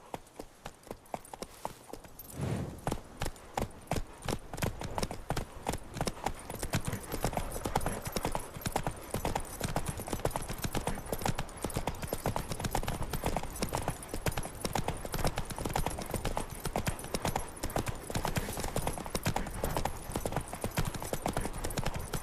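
Horse hooves clip-clopping in The Witcher 3 video game, a steady rapid gallop-like rhythm of close, loud hoofbeats continuing throughout after a brief quiet start.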